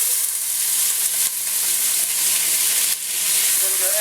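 Chopped green pepper and minced onion saute in olive oil in a pan, giving a steady, close, bright sizzle with occasional stirring scrapes and crackles, and no voices.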